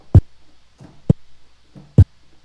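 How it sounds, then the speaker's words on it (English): A poorly executed DJ chirp scratch on a turntable, the platter cut too fast, giving three clipped, thudding bursts with faint smeared sound between them, close and alone. "problems sometimes arise if you push your platter forward and you cut the sound too fast"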